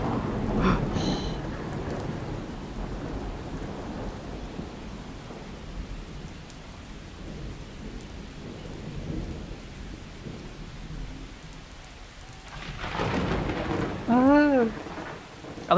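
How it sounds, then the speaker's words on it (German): Thunderstorm with rain in the game Miscreated: a steady hiss of rainfall under rolling rumbles of thunder that swell and fade, with a brief burst of other game noise near the end. "Ich glaube, es kann noch lauter werden, das Gewitter."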